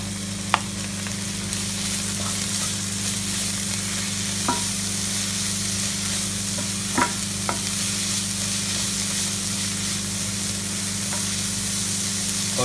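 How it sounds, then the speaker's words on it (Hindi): Grated ginger and garlic fry on a low to medium flame with a steady, soft sizzle under a constant low hum, broken by a few light clinks of a stirring spoon against the pan. "और इसको 3-4 मिनट के लिए और भुनेंगे अभी।"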